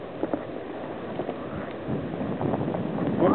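Wind gusts roar during a snowy blizzard, a steady rushing blow buffeting the microphone and swelling slightly toward the end, with faint crunching footsteps in the snow.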